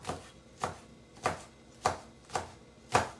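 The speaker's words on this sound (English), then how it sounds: "So just cut off the ends, and we're just gonna cut them into smaller pieces." A knife chops green onions on a cutting board in six steady, evenly spaced cuts, each one crisp and close with a short quiet gap between them.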